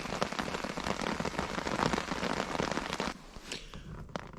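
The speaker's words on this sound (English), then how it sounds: "Rain's eased off a bit" Rain patters steadily on a tent at a wild camp, a dense close crackle of drops on the fabric that thins out toward the end, leaving scattered individual drips.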